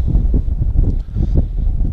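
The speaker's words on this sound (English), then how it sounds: "Figures the wind's got to blow every time I want to record something." Wind blows outdoors in an old graveyard, buffeting the microphone with loud, low rumbling gusts that swell and ease continuously, with no other sound.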